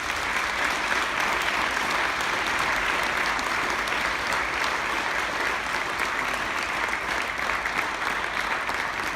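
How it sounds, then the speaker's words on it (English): An audience at a school awards night for students gives a warm, sustained round of applause, dense, steady clapping that fills the hall for the full nine seconds without letup. "Please give these students a warm round of applause."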